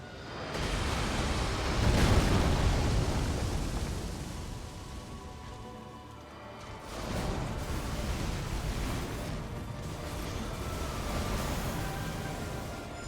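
Meteor spell explosions from an Elden Ring battle rumble as broad, heavy roars, swelling into a loud blast early on, easing, then rising again into a sustained deep wash of noise.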